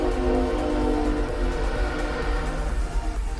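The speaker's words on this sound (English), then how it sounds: "And as you can hear, the train is moving on by." A train rumbles past close by for a few seconds, a steady loud low roar with rolling rhythmic clatter from the cars throughout.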